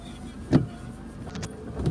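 A car passes on a narrow road in Benguet in the rain, rising briefly as a single soft swish against the low rumble of the vehicle carrying the recorder.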